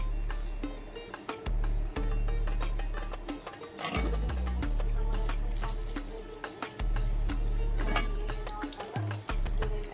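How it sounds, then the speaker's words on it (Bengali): Cut and washed potatoes go into hot oil with a fried spice tempering, setting off a loud, sustained sizzle that surges sharply as they hit the pan, then settles into steady frying hiss. "ফোড়নটা ভাজি হয়ে গেছে এবার আমি দিয়ে দেব কেটে ধুয়ে রাখা আলু"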